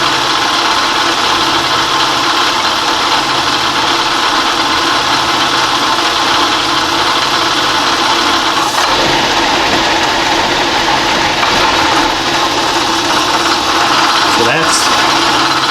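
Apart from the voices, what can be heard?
metal shaper cutting serrations in aluminum vise jaws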